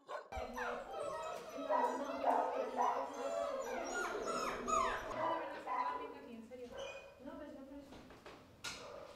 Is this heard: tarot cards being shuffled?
no